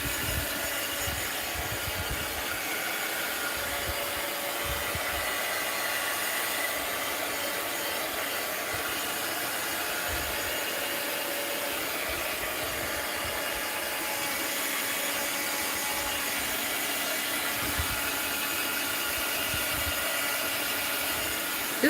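Steady whirring hiss of a heat tool drying paint, continuous and fairly loud, with faint low rubbing bumps underneath.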